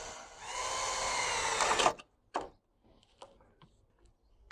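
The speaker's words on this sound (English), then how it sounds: "take the drill, pop a little hole through the brace on the back here" A power drill whirs briefly as it bores a small hole through a wooden brace on the back of a garden fixture, a close, loud burst lasting under two seconds, followed by a few faint clicks and handling knocks.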